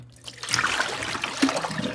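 Water pours out of a cooking pot into a drain, a close splashing gush that starts abruptly and keeps running with uneven spatters for about two seconds.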